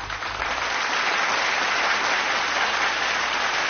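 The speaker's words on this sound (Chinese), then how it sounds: "我们要把鼓励的掌声送给我们的山河组合" Dense, steady audience applause at a military stage competition, offered to a performing duo, holding loud and even for several seconds.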